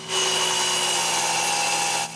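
A power saw cuts through stacked wood pieces in one continuous, steady buzzing pass lasting about two seconds, loud and close, then stops.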